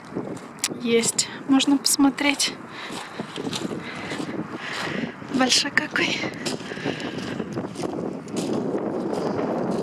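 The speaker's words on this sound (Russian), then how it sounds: "Ой, ну ветрище сегодня просто вообще невыносимый." Strong wind buffets the microphone with a steady rushing roar outdoors at an aircraft museum in Utah, while people talk over it.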